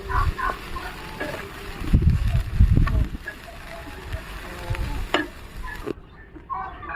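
Shredded cabbage, carrot and capsicum get stir-fried in a pan, with sizzling and scraping, clattering spatula strokes in irregular bursts, close by, while a person talks over it.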